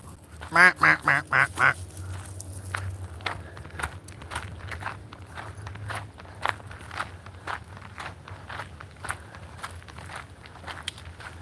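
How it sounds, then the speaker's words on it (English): Geese and other waterfowl by a pond give a quick burst of loud honking calls, then scattered quieter calls mix with close footsteps walking along the bank. "What up, waterfowl?"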